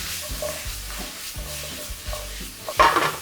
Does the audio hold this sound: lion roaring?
no